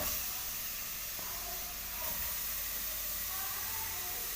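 Strained cow trotters, soaked in vinegar and lemon, hitting a hot pot and sizzling with a continuous broad hiss that holds steady at moderate level throughout.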